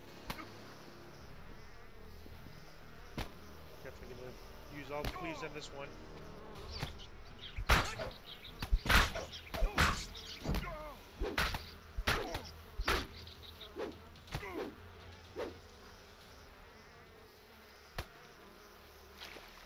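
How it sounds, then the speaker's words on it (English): Buzzing insect swarm of bees near their hives in the video game DDO, a low droning bed under a person talking, with sharp combat-like hits cutting through. "Bees swarm near their hives."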